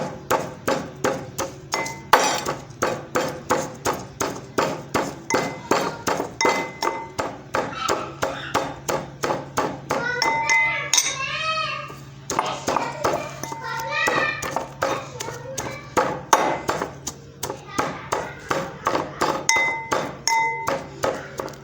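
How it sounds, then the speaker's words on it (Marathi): Garlic is pounded by hand for a spicy garlic chutney. The close, regular thuds have a ringing clink and keep an even beat, pausing briefly midway. A voice talks over parts of it. "हे पहा मस्तपैकी लसण वाटून घेऊत आपण"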